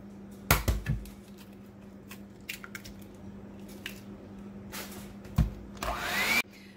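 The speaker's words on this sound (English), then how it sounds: "I'm going to beat this on medium speed until it's nice and creamy" An electric mixer beats cherry layer cake batter with eggs on medium speed, giving a low, steady motor hum broken by intermittent wet squishing slaps as the beaters churn, fairly quiet and close.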